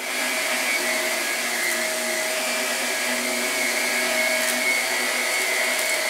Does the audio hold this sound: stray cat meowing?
no